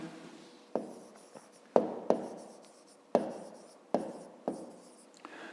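A pen writes math on paper close up, making soft scratchy strokes punctuated by sharp taps as each number or mark begins, in an otherwise quiet room.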